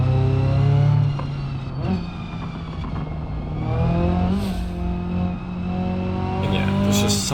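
A car in BeamNG.drive on an Italy time-trial course, its engine revving up and down in a steady, prominent drone with no talking.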